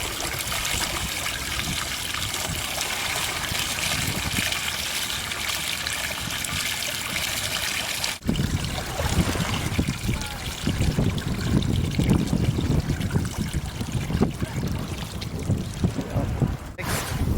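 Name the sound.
water draining from a JetSurf board hull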